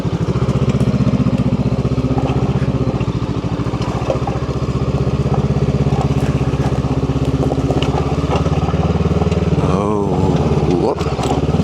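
A Honda Scrambler motorcycle engine runs steadily and close by, then revs up as the bike rides off near the end, with faint talk over the engine.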